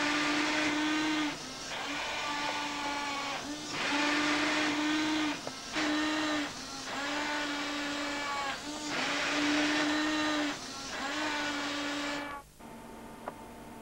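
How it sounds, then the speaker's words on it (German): A fischertechnik model robot with a pneumatic gripper that picks up wheel rims and sets them on a machining station runs steadily, giving a continuous whirring motor drone with a humming tone. Short pauses break it up before it stops abruptly near the end. "Dieses Modell ist ein Roboter, also ein Pneumatikgreifer hier, der diese Felgen greift, auf die Bearbeitungsstation legt"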